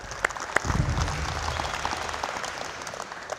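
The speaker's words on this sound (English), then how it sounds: "give her a round of applause" Applause for a young female basketball player after a conditioning drill: a few sharp individual claps at first, then a steady, moderate patter of clapping in a gym setting that fades slightly toward the end.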